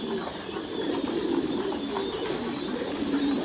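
Thai Titan pigeons coo in a pigeon loft, overlapping soft throaty calls repeating steadily over a constant background noise, with a voice speaking faintly underneath.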